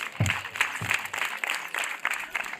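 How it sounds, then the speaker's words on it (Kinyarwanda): Audience applause at a district event in Burera, a fairly faint patter of claps with rhythmic bursts, some heavier thumps early on, heard from a distance. "Amashyi menshi."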